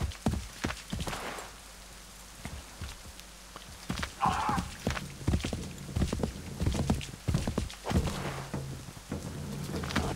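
Horse hooves clip-clopping in the video game Assassin's Creed 3, a steady rhythmic series of close, fairly loud hoof thuds continuing throughout, with light rain-like background noise.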